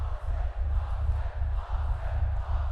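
A crowd cheering at a swim-ball match, a dense roar of many voices with rhythmic pulsing chants, loud and continuous throughout.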